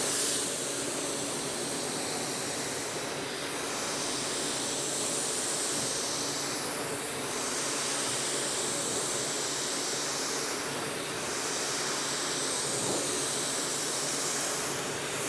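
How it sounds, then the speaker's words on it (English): A spray gun spraying primer at 15 PSI hisses in a steady, broad rush of air with gentle periodic swells as passes repeat, close and unbroken, no voices. "You can spray it at low pressure, so it's not gonna create a lot of overspray."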